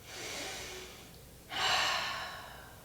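Two slow, deep breaths during yoga child's pose: a soft breathy inhale, then a louder, fuller exhale swelling midway through, close and steady with no talking.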